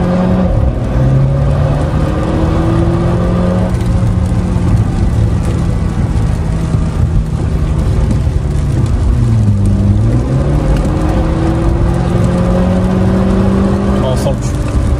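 A Mercedes A250 engine drones close up from inside, its pitch climbing through gears as it accelerates, with road noise throughout.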